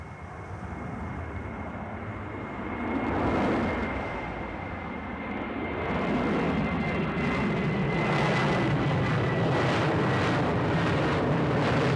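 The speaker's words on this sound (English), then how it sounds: "Departing north towards Derby now on a right hand" An aircraft departing East Midlands Airport to the north on a right-hand turn, its engine roar rising in a brief swell, then settling into a louder sustained rumble with a faint steady whine running through it.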